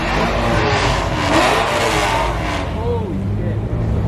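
Loud car engines revving together at a car meet in LA, a dense continuous roar with rising and falling revs close by, people talking over the engine noise.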